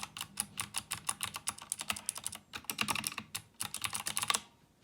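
Rapid typing on a GK61 mechanical keyboard with blue switches, bursts of crisp, clicky keystrokes in quick irregular runs with brief pauses, close and loud with no talking.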